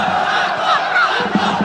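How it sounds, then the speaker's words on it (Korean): Stadium crowd at a WK League women's football match between Hyundai Steel and Suwon chanting a player's name: a loud, continuous mass of voices filling the whole moment. "저 산토스를 연호하는 지금 관중들인데요"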